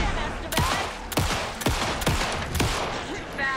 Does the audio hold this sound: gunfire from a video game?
yes